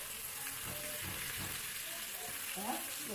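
Local chicken pieces hit a hot pan of oil with ginger and garlic, giving a steady, close sizzle and crackle that runs throughout without pause.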